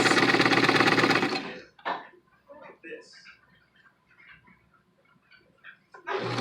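A home sewing machine stitches a fabric ear warmer headband, a loud steady mechanical whir for nearly two seconds that stops and gives way to quieter small clicks and handling noises, then restarts at the end.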